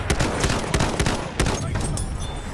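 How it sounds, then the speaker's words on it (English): Enemy machine gun fire in a war video game. Rapid, close, loud bursts crack in an uneven rhythm over a dense, noisy battle background, with no clear talk over it. "Enemy machine gun!"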